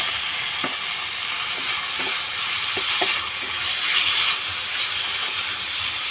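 Chicken strips sizzle steadily in a hot pan with cumin powder and spices, a continuous frying hiss with a few soft stirring knocks, close and alone.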